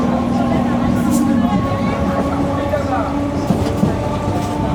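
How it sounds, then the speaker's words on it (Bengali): A moving passenger train just after pulling out of Ukiler Haat station on the line toward Namkhana, heard from inside as a steady, loud rolling rumble with a sustained hum and faint rattles throughout. "এই ট্রেন ছেড়ে দিল উকিলের হাট থেকে, আর মাত্র একটা স্টেশন"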